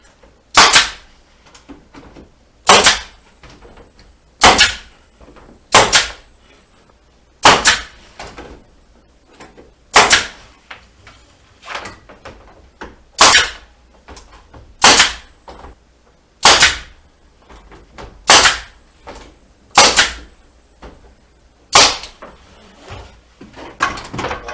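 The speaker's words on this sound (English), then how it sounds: "Take my staples and my staple gun." A staple gun fires into the interior skin of a teardrop camper, about fifteen sharp, loud snaps spaced a second or two apart, close up with quiet gaps between.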